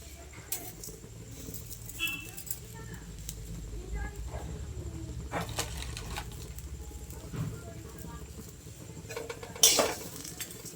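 Flattened rice (chira) frying in a pan with ghee, peanuts and curry leaves, a spoon stirring and scraping in uneven strokes over a faint sizzle, with a voice talking over it and a sharp clatter near the end.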